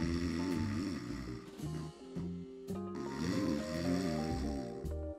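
Human snoring during sleep, a doctor's recording of a sleeper with apnea: steady rasping snores in slow repeated breaths, loud and close, with no talking.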